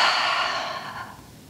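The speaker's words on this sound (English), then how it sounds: "Take a deep breath one more time." A single deep breath out during a kids' yoga class in warrior pose, a soft, breathy exhale close to the microphone that fades away over about a second and a half.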